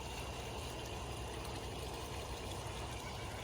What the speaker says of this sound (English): Got that water fountain running.